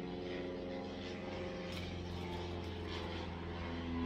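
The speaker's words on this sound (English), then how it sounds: "there's like a plane that's going above me" A propeller airplane passes overhead, a steady broad engine drone with low harmonic hum holding level throughout, fairly loud and continuous with no talk.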